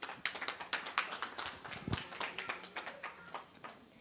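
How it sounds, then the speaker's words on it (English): A crowd at a community open house gives scattered, fairly faint applause for panelists, with many uneven claps overlapping and a brief low thump partway through. "give them a warm round of applause"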